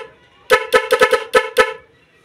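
A loud dual snail horn with relay honks in short bursts, six or seven quick toots close by with a bright, buzzing tone.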